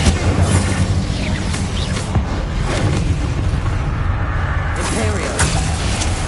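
A fire-blast spell detonates in Hogwarts Legacy, a loud, dense booming explosion with crackling shatter and whooshing debris that rolls on continuously, while a voice talks over the chaotic spellcasting battle.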